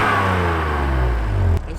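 A BMW E36 328i inline-six engine idling steadily close by, a smooth low hum holding constant for under two seconds before a brief click and slight change in tone.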